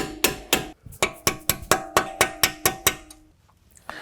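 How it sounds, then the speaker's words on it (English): A hammer taps a pin punch to drive out the front brake pins on a 2019-2026 BMW G05 X5, roughly a dozen sharp metallic strikes in a steady rhythm, ringing with a bright tone, then a pause and one last tap. "take a hammer and start tapping them out"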